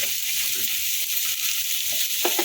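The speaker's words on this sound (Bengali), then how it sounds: "এখন এর মধ্যে দিয়ে দিলাম টমেটোটা" Tomatoes hit a hot pan of oil while cooking a dhaba-style egg tadka, giving a steady, close, dense sizzle that holds throughout with faint stirring scrapes near the end.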